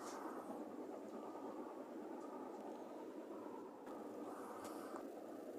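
The Udaya Devi express train runs near Hingurakgoda station, heard as a constant broad rumble and rush of rolling wheels with faint clanks, steady and moderately loud throughout with no speech.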